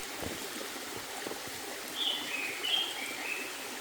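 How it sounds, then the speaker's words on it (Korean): A mountain valley stream in Daeyasan, Mungyeong, in summer, flowing as a soft constant rush with faint trickling. A few thin bird chirps rise briefly above the water partway through. "새소리도 듣고."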